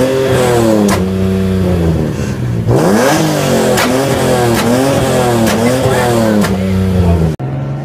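Dodge SRT engine revving hard at a car rally meet, loud repeated throttle blips rising and falling in quick succession with a crackle of exhaust, close by, with voices mixed in.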